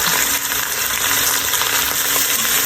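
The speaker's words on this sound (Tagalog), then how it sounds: "Ayan, na-brown na natin ang ating karne." Meat browning in a hot frying pan, a dense continuous sizzle and crackle of frying, close and steady with no talking.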